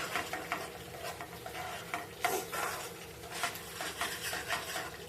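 Garlic chilli chicken is stirred and tossed on a hot tawa, with repeated scraping spatula strokes over a constant sizzle, close and fairly quiet.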